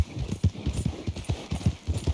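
Horse hooves clip-clop at a steady walking rhythm in the video game Red Dead Redemption 2, loud and close, a continuous run of evenly spaced thuds with little else around them.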